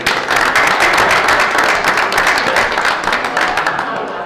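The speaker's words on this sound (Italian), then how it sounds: "un applauso" Applause from the audience at a football club's player presentation for Foligno Calcio fills the room in a steady, dense wash of clapping that fades slightly toward the end.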